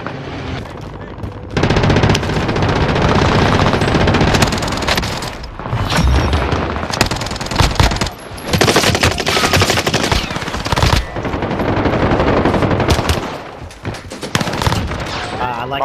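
Rapid bursts of automatic gunfire and booming shots fill a video game firefight, loud and nearly continuous with brief lulls between volleys.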